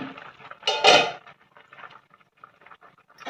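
A metal lid comes off a pot of cooking South Indian sambar with one loud clattering clank near the start, followed by quieter faint rustling.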